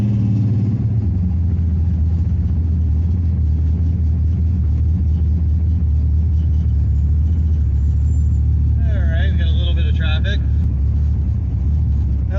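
A 1964 Dodge 330 with a Max Wedge V8 drives along, its deep engine rumble heavy and continuous from inside the car, while people talk over it.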